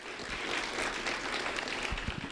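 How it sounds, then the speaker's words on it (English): An audience claps for an intern named Brian Cummings at a public event, a brief, even spell of applause from a moderately distant crowd with faint low thumps near the end. "A round of applause for Brian Cummings."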